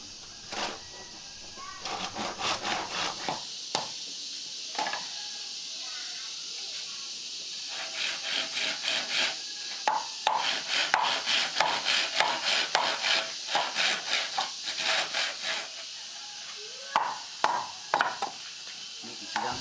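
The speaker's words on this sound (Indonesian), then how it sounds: "dipotong-potong sepanjang 40 cm dengan menggunakan gergaji." Repeated rasping strokes of a hand saw cutting palm frond stalks, in irregular runs of back-and-forth scraping over a steady hiss.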